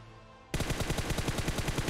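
Rapid automatic gunfire in the mobile battle royale game BGMI, a fast steady burst of loud close shots starting abruptly after a quiet moment and continuing alone.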